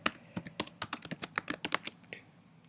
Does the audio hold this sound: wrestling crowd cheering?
no